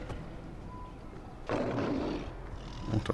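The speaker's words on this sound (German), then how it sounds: "Ich höre, glaube ich, den Bären." A bear roars in the prehistoric video game Far Cry Primal, a faint, distant growling swell rising midway amid low ambient wilderness noise, with no talking.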